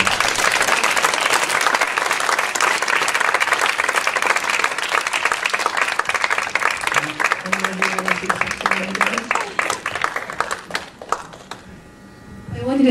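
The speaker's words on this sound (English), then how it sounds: "Let's give them a big round of applause." Sustained audience applause at a church gathering, loud and dense for about eleven seconds with a faint voice under it near the end, then fading before a brief swell.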